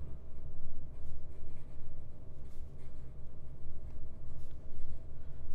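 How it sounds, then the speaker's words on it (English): Stabilo Grow fountain pen nib scratching quickly across paper with wet ink flow, a steady soft continuous rustle of fast writing heard up close with no voices. "Now fast writing."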